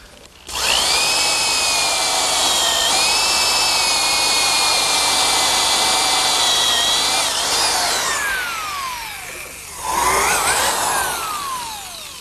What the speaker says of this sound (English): a counterbore is best made with a Forstner bit, and because of its shape, it cuts a nice flat bottom hole